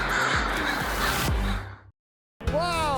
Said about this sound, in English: we find out why thousands of crows are gathering at this college campus